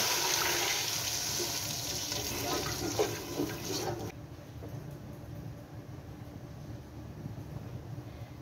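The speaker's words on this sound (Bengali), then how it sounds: "এখন আমি এটাতে পানি অ্যাড করে দিলাম।" Water pours into a pot for chicken biryani in a steady gushing stream, then drops to a softer, lower trickle about halfway through.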